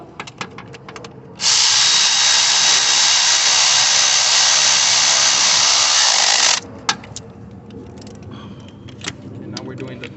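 A power tool runs a screw into a 2015 Chevy Cruze LT during a belt replacement, whirring steadily and loudly for about five seconds amid faint clinks of tools before and after.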